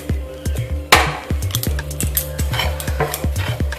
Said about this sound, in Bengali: এবার আমি সুজিটা খুব ভালোভাবে রোস্ট করে নেব।